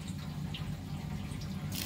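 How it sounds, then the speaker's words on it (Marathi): Hot water, about two litres, pours steadily onto soaked sabudana (tapioca pearls) with a continuous, soft, close gushing. "आणि आता त्यात गरम पाणी घालते"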